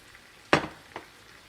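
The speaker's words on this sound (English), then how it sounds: "stir to kind of agitate the grains, or in this case, the pasta" A spoon stirs mushroom pasta in its starchy cooking liquid, cooked risotto-style. It makes one sharp scrape against the pan and a fainter second stroke after it, over a quiet background.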